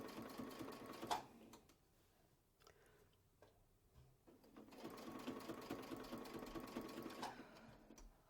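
A sewing machine stitching quilting lines on a quilt block, with a rapid, steady mechanical whir that runs, pauses briefly with a few clicks, then resumes, heard close and fairly quiet.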